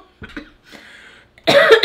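A few short, harsh coughs at close range, starting as small throat sounds and ending in a loud, forceful burst.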